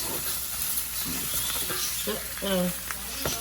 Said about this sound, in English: The act of sauteing the meat also creates those brown, sticky brown yummies in the bottom of the pan